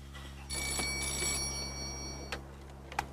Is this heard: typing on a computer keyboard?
no